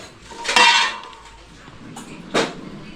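Steel plates (thalis) clattering while chapatis are served, two sharp metallic clanks with ringing tails about two seconds apart, close and fairly loud over faint room noise.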